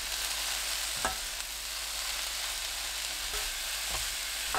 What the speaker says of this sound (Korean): 새송이버섯, 양파 넣고 2분 볶아주세요